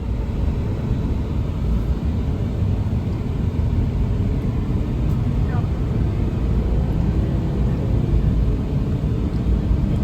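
Farm pickup truck with a broken part driven on a test spin, a steady loud low engine and road rumble heard from inside the cab, unbroken for the whole stretch, with no clear talk over it.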